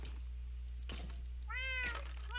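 Cats meowing in the video game Minecraft: a faint tick early on, then one clear, drawn-out meow near the end over a steady low hum.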